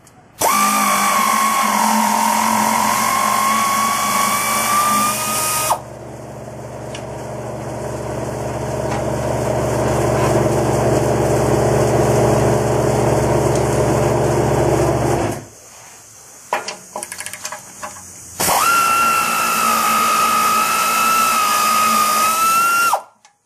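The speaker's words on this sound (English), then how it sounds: "take off the 2 through bolts on the bottom of the bell housing" An air impact wrench spins off the 18mm through bolts at the bottom of a Jeep Wrangler TJ 5-speed transmission's bell housing, with a loud high whine and long grinding rattles in between.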